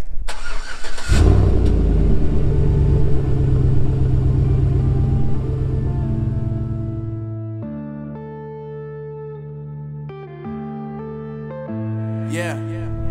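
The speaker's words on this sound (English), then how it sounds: "hopping in the good old Silverado, heading to Home Depot and picking up 89 feet of baseboards." A Chevrolet Silverado pickup starts with a loud burst, then its engine hums steadily from inside the cab and eases into a lower drone as it drives, with some talking over it.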